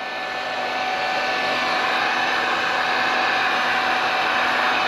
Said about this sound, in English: especially if you have a heat gun where you can't control the temperature, you risk getting it too hot